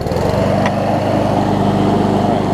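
A Craftsman push mower with a Honda engine runs at a loud, steady, buzzing drone close by, with no voices over it.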